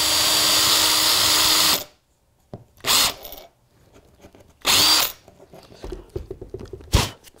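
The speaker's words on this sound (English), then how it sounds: "I drill the hole there," A Makita cordless drill whirs loudly into wood, pauses, then gives two short bursts, with faint handling noises between.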